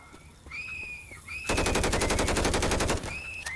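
Rapid automatic gunfire from the Left 4 Dead 2 zombie shooter game erupts in a loud, steady burst of about one and a half seconds, with quieter game sounds before and after.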